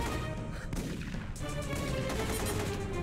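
A video game ship exploding in a dense, continuous barrage of blasts and crackling bursts, loud and sustained across the whole stretch with repeated sharp impacts.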